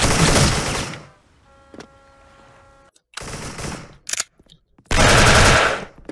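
An FA-MAS rifle in the game Special Force fires in short bursts, with loud, sharp clusters of shots separated by quiet gaps, close and distinct, and a brief faint tone sounding in one pause.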